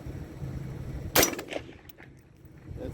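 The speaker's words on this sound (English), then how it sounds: "Here we took it out to the range for first shots, zeroing, and groups with a couple different types of ammo." Single sharp gunshot from a budget .223 rifle upper fired at an outdoor range, a loud crack partway through followed by a short fading echo over quiet background.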